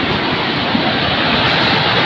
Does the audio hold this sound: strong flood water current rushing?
yes